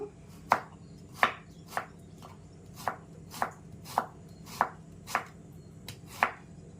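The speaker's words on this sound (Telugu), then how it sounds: "ముందుగా క్యాబేజ్ సన్నగా కట్ చేసుకున్నాము" A knife finely chopping cabbage on a board for a diabetic-friendly omelette, about ten crisp, evenly spaced chops close by, with no talking.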